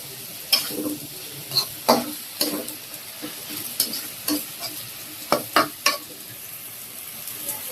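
Bitter gourd and potato pieces frying in a pan crackle softly, with a string of sharp spatula clicks and scrapes against the pan at a steady, unhurried pace.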